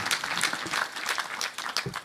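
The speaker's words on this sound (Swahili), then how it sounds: "Tumpigie Mheshimiwa Medho makofi tena." A crowd at an outdoor political rally in Kinangop, Nyandarua claps in applause for a speaker. The clapping is faint and distant, a steady patter of many hands with a few louder bursts, and no speech over it.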